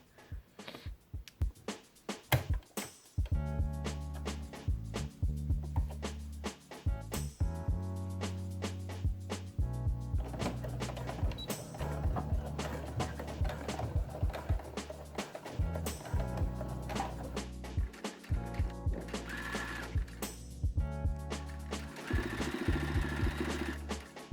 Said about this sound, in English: I'm just going to top stitch along this edge here